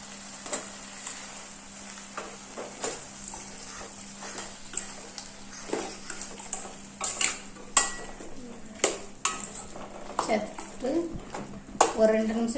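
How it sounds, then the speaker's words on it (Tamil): Drumstick pieces being stirred in a tomato masala for egg curry, with frequent close metallic scrapes and clinks of a spoon against the pot over a faint sizzle. "நிமிஷம் இப்படி கிண்டி விடுங்க"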